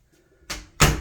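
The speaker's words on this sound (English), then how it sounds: "I've got little baby double doors into the actual bathroom" Small double doors into a home bathroom swing open: a soft creak and rustle, then two close, solid knocks a fraction of a second apart as each leaf moves, loud and near with no talk.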